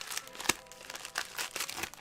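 Faint crinkling and rustling as a cardboard box package of Japanese Pokémon Chilling Reign booster boxes is handled, with a few sharp crackles and snaps at irregular moments, nearby and quiet.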